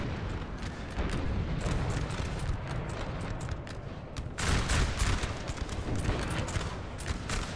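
Dense musket volleys and artillery fire roll on without a break in a Napoleon: Total War battle, a thick crackling fusillade that swells louder midway and stays constant, with no talk over it.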